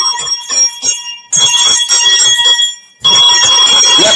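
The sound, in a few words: boxing ring bell ringing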